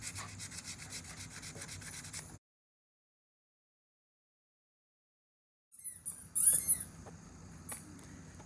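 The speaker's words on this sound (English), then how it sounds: "I'm now going to start sanding down the handle of the knife to give it a really nice smooth finished look" Hand sanding a wooden knife handle made from a telephone pole top, a steady soft rasping rub, faint and close, cut by a silent gap before the scraping resumes with a few louder strokes.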